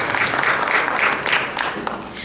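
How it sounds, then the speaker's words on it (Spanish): Steady audience applause at a conference for an engineer about to give a presentation, continuous dense clapping at even loudness across the whole short stretch. "Por favor, les solicitamos un fuerte aplauso para la ingeniera Marta Dipakti."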